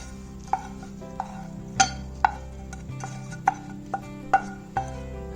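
A spoon stirs sautéed vegetables into a curd mixture for sooji appe, giving a series of distinct clinks and scrapes against the bowl at an uneven pace, fairly close and clear.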